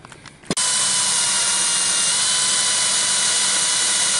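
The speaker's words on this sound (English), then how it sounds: "Drilling your holes," After a brief start, a power drill spins up and runs continuously at high speed drilling mounting holes, a loud, close, steady whine with no voices.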